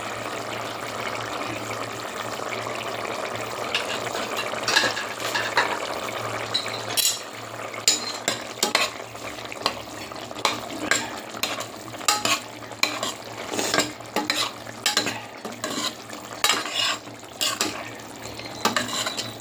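Spices being sautéed in a pan with cumin powder just added, a soft steady sizzle under repeated scraping and stirring strokes that grow more frequent and pronounced over time.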